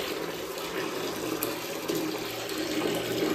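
Water pours steadily into a bucket in a bathroom, a continuous splashing gush at close range with no talk.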